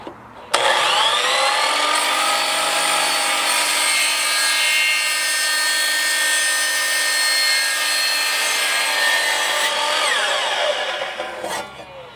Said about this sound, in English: First, we gotta cut our 90-degree PVC pipe in half.